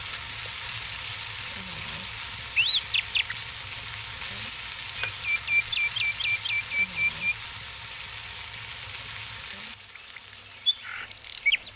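Tomato thokku fries in oil over a low flame, giving a steady soft sizzle. Bright bird chirps and trills break in above it, and near the end the sound briefly changes.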